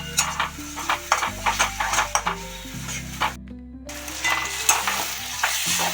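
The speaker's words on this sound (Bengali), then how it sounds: "দিয়ে ভালো করে মশলাগুলোকে একদম কষে তেল ছাড়িয়ে নেব" Mustard and poppy seed spice paste frying in oil in a pan for pomfret curry, with steady sizzling broken by repeated scraping stir strokes and a brief pause near the middle; no talking.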